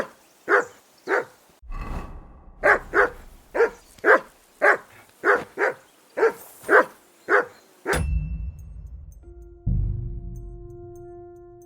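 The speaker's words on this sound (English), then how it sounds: "Call off that mutt of yours!" Dog in the Kingdom Come Deliverance 2 video game barking about a dozen times in an even, loud rhythm, followed by low rumbling game sounds and a sustained tone.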